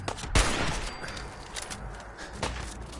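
Legendary sniper rifle fire in the video game Fallout 4, with a heavy close shot near the start and another sharp report a couple of seconds later amid lighter background game noise.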